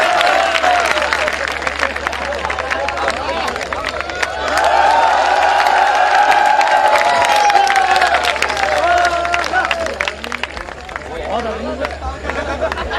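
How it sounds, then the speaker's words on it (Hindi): An audience at a live Hindi stage show bursts into sustained applause, dense clapping mixed with crowd chatter and a voice running over it. "एक बार जोरदार तालियां"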